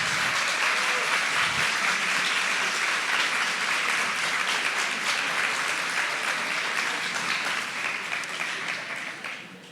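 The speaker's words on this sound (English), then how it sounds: "everyone just give them a round of applause" Sustained applause from a keynote audience standing for the team, loud and dense throughout, with faint talk underneath, tapering slightly at the end.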